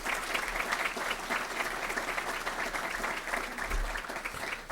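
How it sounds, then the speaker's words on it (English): A conference hall crowd gives sustained applause for pension system trustees at an annual investment manager gathering, a thick, even wash of clapping from many people that holds steady throughout. "I really want you to give a round of applause to these trustees."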